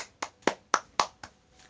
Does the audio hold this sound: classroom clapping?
yes